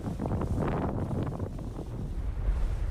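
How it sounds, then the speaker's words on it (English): Hurricane-force wind on K2 batters the microphone in heavy, continuous gusts, a loud low rumble with surging buffeting that never lets up. "Hurricane-force winds sweep in forcing everyone to hunker down in their tents."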